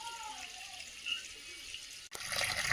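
Water poured out to soak garden plants, a faint steady splashing trickle that swells into a louder rush near the end, heard on its own without talk.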